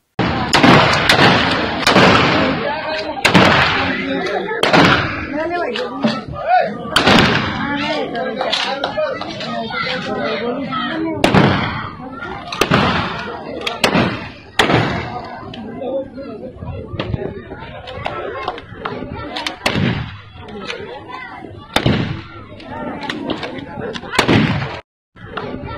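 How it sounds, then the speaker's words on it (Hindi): Rapid rifle shots ring out at a wedding celebration, where several young men fire rifles as the groom makes his entrance. Loud cracks burst out repeatedly and irregularly across the whole stretch, over constant crowd chatter and voices. "युवकों ने किए फायर।"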